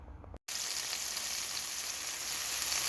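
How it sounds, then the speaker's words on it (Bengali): Rohu fish and onions frying in oil, a loud, steady, close sizzle that starts after a brief cut and continues unbroken. "রুই মাছ ভেজে নিচ্ছি, সে সাথে আরও পাত্রে পেঁয়াজও ভেজে নিচ্ছি।"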